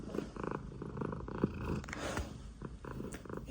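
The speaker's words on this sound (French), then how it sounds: "Et qui ronronne." A house cat purrs loudly and close, a steady rhythmic rumble of in-and-out breaths with a few small rustles and thumps, and no talk over it.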